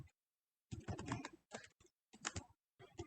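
Someone types on a computer keyboard in a few rapid bursts of close, clicking keystrokes separated by short silent pauses.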